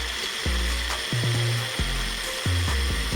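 Bullet-style blender whirring in repeated bursts while blending a white creamy sauce for a vegan oil-free burrito bowl, loud and close with brief pauses between pulses and no talking.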